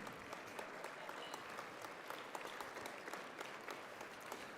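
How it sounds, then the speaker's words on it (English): Audience at the Iditarod pre-race gala show applauds the sponsors, a steady, fairly faint wash of many hands clapping that holds evenly for several seconds. "A round of applause for our sponsors"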